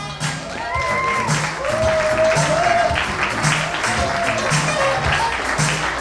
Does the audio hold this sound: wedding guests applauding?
yes